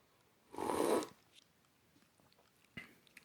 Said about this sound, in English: We'll take a little slurp.